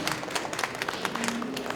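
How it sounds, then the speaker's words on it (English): Audience in a talk hall clapping on request, a dense spread of hand claps running steadily for the whole stretch at moderate distance, with no words over it. "let's do a round of clap again"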